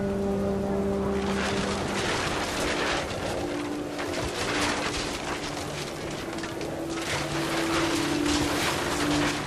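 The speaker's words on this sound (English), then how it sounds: "The rain came down in buckets then" Heavy rain pouring down in the video game What Remains of Edith Finch, a thick, steady hiss that fills the scene beneath sustained musical tones.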